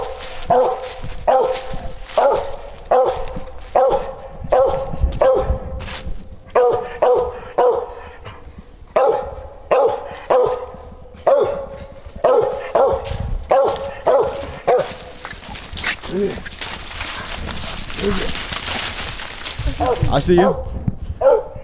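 Hunting dogs on a squirrel hunt bark in quick repeated bursts, loud and close, with a rhythmic chorus of yips and bays while people talk and call between barks.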